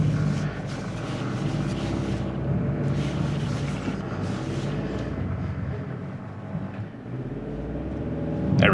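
A 2025 Hyundai Santa Cruz engine held at full throttle during an off-road climb, roaring steadily and loudly with a strained drone that dips briefly near the end and then swells again, with no talk.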